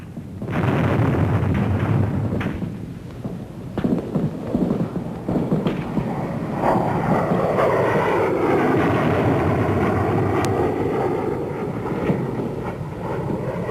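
Military aircraft engines roar loudly overhead in 1968 Vietnam with a rushing, rumbling drone, mixed with distant booms and thuds, the pitch shifting as planes pass.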